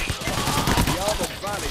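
Rapid bursts of gunfire from a gun in PAYDAY The Heist, crackling shots packed close together under a busy mix of game noise and a short rising tone.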